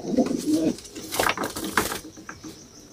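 A pigeon at a pigeon seller's shop gives a couple of soft, low coos close by, followed by a few light clattering knocks.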